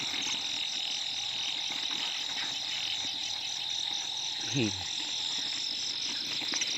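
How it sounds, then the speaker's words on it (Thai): Narrow-mouthed frogs chorusing at night after heavy rain, a continuous droning mix with crickets, and one brief louder croak-like call partway through. "เสียงอึ่งร้องอ่ะ"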